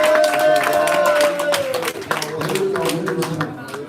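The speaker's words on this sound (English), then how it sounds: "Let's give a round of applause for our Nashville team" Crowd clapping and cheering at a live comedy roast show in Nashville while a voice speaks over the applause, loud and close.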